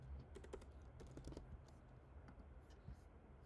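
Fingers tap out a short word on a computer keyboard, quick light clicks in uneven bursts that thin out toward the end, close and quiet, with faint voice in the background.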